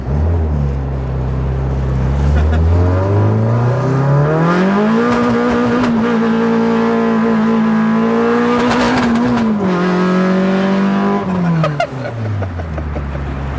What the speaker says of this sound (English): it rips through second gear now